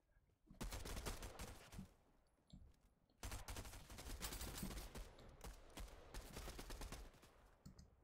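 Sustained video game gunfire in rapid bursts, loud and dense, with a short pause near the three-second mark before the shooting resumes and runs on without talk.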